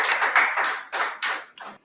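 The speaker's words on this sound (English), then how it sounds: "a round of applause" A brief round of applause from an audience at a school event, a few bursts of clapping in quick succession that break off and die away after about two seconds.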